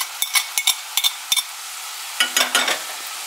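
Diced onion going into a pan of frying ground beef stuffing, heard as a soft background sizzle broken by several short close stirring scrapes in two bursts.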